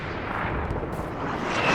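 Booming artillery fire in a competitive multiplayer war game gives a dense, continuous low rumble of blasts that swells slightly toward the end, with no speech.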